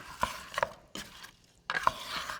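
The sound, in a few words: stirring eggplant and thyme in a Tupperware dish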